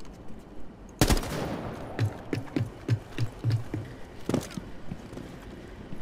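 A single sharp gunshot in the video game Rainbow Six rings out loud at about one second, then a quick run of dull repeated thuds like footsteps or further shots follows, with another sharp crack near four seconds.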